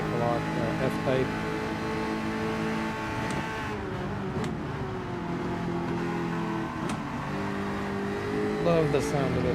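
A Jaguar F-Type engine in Gran Turismo 7 hums and revs steadily throughout, with rising and falling tones, close and continuous, mixed with other game noise.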